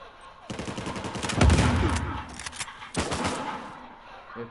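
Rapid bursts of video game gunfire playing on a TV, loud clusters of shots with brief gaps between volleys, followed by fainter trailing pops.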